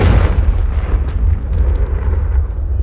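A Confringo blasting spell in Hogwarts Legacy goes off as a heavy, rumbling explosion, loud and close, with a deep sustained roar and a scatter of crackling debris bursts through its length.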